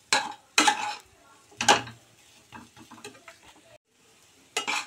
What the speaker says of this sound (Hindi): इसे हमें धीमी आंच पे भूनते हुए 8 से 10 मिनट का समय ले लेना है।